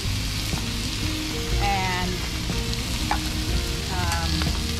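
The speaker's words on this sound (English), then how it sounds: "Hear that sizzle?" Chicken in homemade sauce sizzles loudly and steadily as it fries in a pan at a beach campground, with a brief spoken word and light clinks over the crackle.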